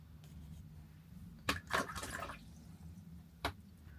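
A blob of water lands on watercolour paint with a few faint, soft drips and splashes in a quiet room.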